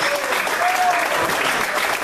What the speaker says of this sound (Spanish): Denle un aplauso al Señor.